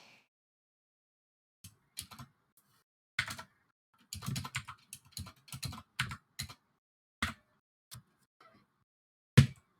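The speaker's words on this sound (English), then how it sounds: "trying to find the pause button on my new keyboard" Sparse, irregular bursts of key clicks on a new computer keyboard, close and crisp with quiet gaps between them and no talking.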